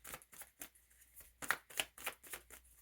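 Tarot cards being shuffled by hand, a close, rhythmic series of crisp riffling bursts repeating roughly every fraction of a second, with no talking.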